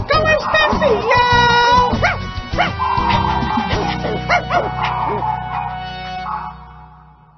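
A cartoon-style dog bark sound effect from a 2003 Portuguese-language children's animal CD-ROM, a few short yips heard over a bouncy song with a child-like singing voice, loud and close throughout.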